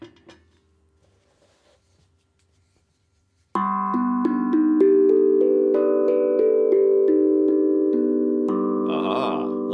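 Bright, bell-like tones from a Beat Root tank drum with a magnet added ring out after a few seconds of near silence, sustained overlapping notes that swell, shift pitch and shimmer with a metallic sweep near the end.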